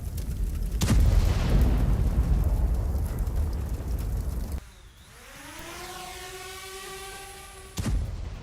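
Explosions from a Russian strike on Ukrainian army positions: a heavy blast followed by a long rumbling roar, then a fainter tone that falls in pitch and a second sharp bang at the end.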